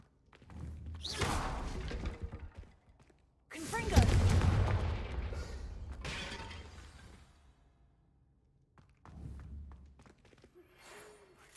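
Bombarda and Confringo spell blasts in Hogwarts Legacy, several loud booming explosions in separate bursts with crumbling, shattering debris trailing off, and a voice calling out between them.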